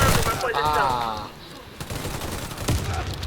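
Rapid gunfire bursts from the Counter-Strike-style shooter Storm map Highill with a CSR2 rifle, sharp repeated shots over game noise while someone talks excitedly.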